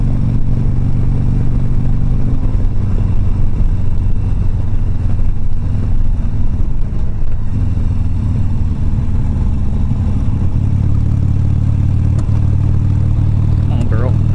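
A Harley-Davidson Sportster motorcycle engine rumbles loud and close throughout a ride. The steady low drone continues without a break, with some clatter and faint wind noise on top.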